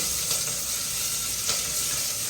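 Chopped onions sauté in a pan for a breakfast dish, giving a steady, close sizzle of frying with faint stirring scrapes throughout and no voices.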